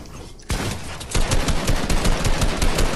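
Gunfire in Fortnite Zone Wars, arriving in a loud rapid burst of sharp shots about half a second in and then continuing as a dense run of closely spaced cracks.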